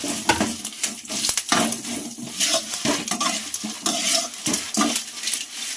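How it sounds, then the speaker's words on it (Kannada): Green chillies frying with a busy, steady sizzle, broken up by frequent scrapes and clatters of a spoon stirring in a metal pan, fairly close. "ಈಗ ಅದೇ ಒಂದು ಬಾಣಲೆಗೆ ಮೆಣಸಿಕಾಯನ್ನು ಹಾಕ್ಕೊಂಡು ನೀಟಾಗಿ ಫ್ರೈ ಮಾಡ್ಕೋಬೇಕಾಗುತ್ತೆ."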